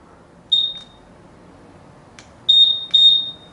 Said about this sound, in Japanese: インドネシア仕様の場合はこのセキュリティのアラームもね入ってるんで